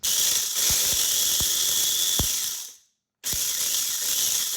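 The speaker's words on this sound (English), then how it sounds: "Literally weeks of work all in this little food processor right now." A small food processor grinds cacao nibs with a steady, loud, harsh whir broken by sharp clicks, cuts out briefly near the end, then starts up again.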